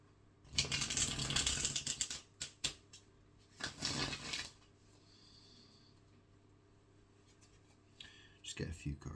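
Deck of cards being shuffled by hand, two bursts of riffling at the start and middle with quieter handling between and another rustle at the end, close and soft.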